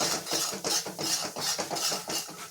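Hing, chili powder, turmeric, salt and masala sautéing for cheese dabeli, a spoon scraping and stirring the pan in a steady rhythmic back-and-forth with a soft sizzle underneath, close and moderately quiet.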